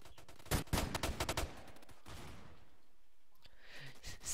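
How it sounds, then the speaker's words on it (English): Shotgun blasts in a video game, a quick burst of several loud booming shots close together, followed by quieter game noise and scattered fainter pops. "I'm gonna be a total like noob right now and use a shotgun."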